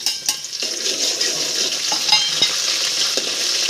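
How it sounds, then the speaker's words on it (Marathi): Onions and curry leaves frying in a pan, a steady close sizzle with occasional stirring scrapes and light clinks throughout. "कांदा लाल करून घ्या आता कढीपत्ता कढीपत्त्याची पानं ती आपण गरजेनुसारच टाकायची"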